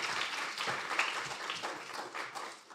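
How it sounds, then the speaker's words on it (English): An audience applauds a speaker at an Indo-French legal and business conference, a dense, steady wash of many hands clapping throughout that tapers slightly at the end. "Can we please have a round of applause for Mr."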